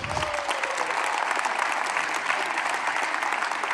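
Steady audience applause fills a seminar room at a cinematography festival, a dense, even patter of many hands held at a constant level.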